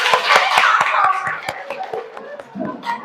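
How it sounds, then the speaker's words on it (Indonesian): A classroom of children clapping hands together, a series of sharp, separate claps in a loose rhythm with light chatter in the room behind them. "tepuk tangan untuk semuanya"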